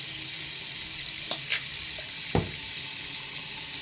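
Tap water runs steadily into a bathroom sink, a continuous close splashing hiss with a few brief clinks and knocks over it, and no voices.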